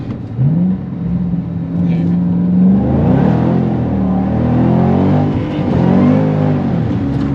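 A 2011 Ford Mustang Shelby GT500 accelerates hard in first gear, its engine note climbing loudly and continuously, heard close up from the car.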